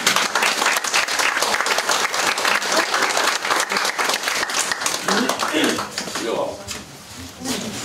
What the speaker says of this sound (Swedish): Om vi applåderar Örjan nu så ja, kanske han kommer fram